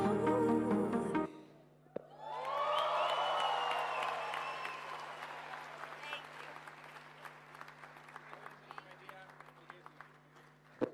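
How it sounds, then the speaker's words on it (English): Broad, sustained applause from a crowd at the Africa Climate Summit, loud at first and slowly thinning over several seconds as scattered claps continue. "Let's give her one more round of applause."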